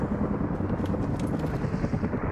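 A helicopter in Call of Duty: Modern Warfare drones as a steady low rotor rumble, even and moderately loud, with faint gunfire-like ticks mixed in.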